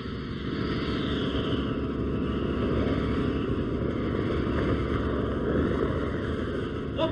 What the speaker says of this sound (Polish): Puścić wszystkie motory w ruch.